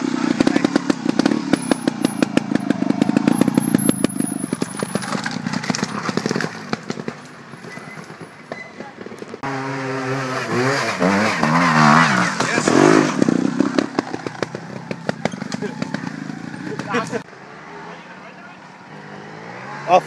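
A small engine, tagged like a chainsaw or motorcycle, revs and sputters in uneven bursts, loud and close, rising and falling in pitch, with people talking and shouting excitedly around it.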